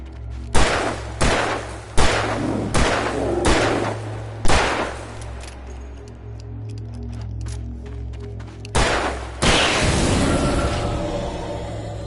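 Gunshots in the horror game Alan Wake ring out loud and close, a run of about six evenly spaced sharp blasts, a pause, then two more heavy shots with a long reverberant tail over a low droning background.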